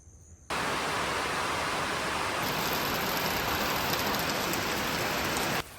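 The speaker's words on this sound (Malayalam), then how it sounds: "പടച്ചോനീ, വലിയ മഴ വരണ്." Heavy rain pours down in a dense, steady roar that starts abruptly and holds loud and unbroken, with no voices.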